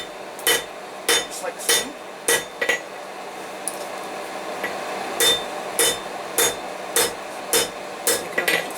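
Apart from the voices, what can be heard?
blacksmith hammering hot steel to flatten a bottle opener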